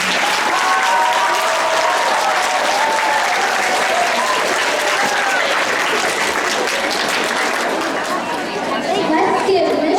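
Dense, loud audience applause for a speaker on stage at a Black History Month event, mixed with crowd chatter and cheering, sustained for the whole stretch.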